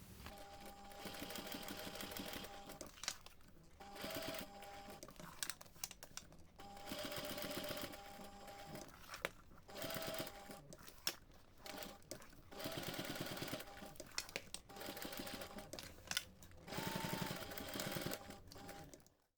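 A sewing machine stitches backpack straps in repeated bursts of rapid mechanical whirring, separated by short pauses, close and fairly quiet.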